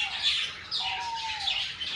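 A pair of cockatiels calls back and forth in shrill, rising squawks and chirps, several calls in quick succession, loud and close.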